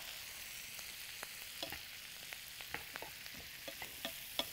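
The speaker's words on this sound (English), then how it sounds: "I'm just going to kind of saute these for just a couple of minutes to soften them and get them a little bit browned up" Vegetables sautéing in a pan, a faint steady sizzle with sparse light stirring clicks, quiet and close, no talking.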